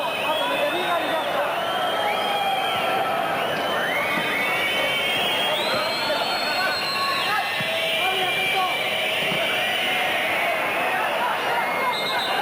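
Football stadium crowd at a 1996 Ukraine versus Spain semifinal, a constant roar with rising whistles and jeers, a commentator talking over it.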